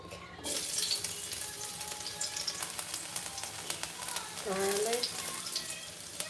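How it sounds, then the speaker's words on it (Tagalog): Garlic sautéing in a pan while seashells are cooked, a steady sizzle with faint clinks and a brief watery swirl midway, running alone with no voices over it. "So we're going to saute. We're going to put garlic."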